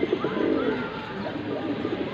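A red khaki pigeon cooing up close, a short run of soft, throaty coos filling the moment with no one speaking.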